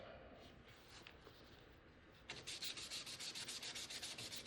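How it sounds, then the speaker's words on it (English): Sandpaper rubbing across the wooden top of a guitar, a soft steady scrape that turns into quick rhythmic back-and-forth strokes, close and moderately loud, with no talking. "So I'm just going to sand the top a little."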